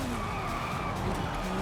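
Tires skid continuously as a high-powered car slides around in a racing video game, a steady rough screech over engine noise lasting under two seconds, loud and unbroken.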